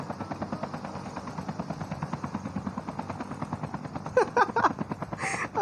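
Helicopter rotor chop in the video game Call of Duty, a steady rapid thudding throughout, with bursts of gunfire breaking in near the end.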